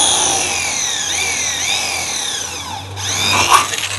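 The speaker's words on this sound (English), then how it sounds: "Just drill a lead hole to start." A power drill whines steadily at close range drilling a small lead hole while installing an aluminium truck tray, its pitch dipping and rising as it bites into the material, ending with a short scraping burst.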